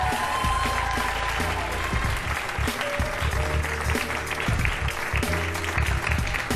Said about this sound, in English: Clap it up for Hannibal Buress!